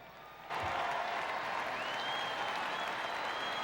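A sellout crowd at a Red Sox baseball stadium game breaks into applause, a sudden wash of clapping and crowd noise that begins abruptly and holds steady, broad and distant-sounding.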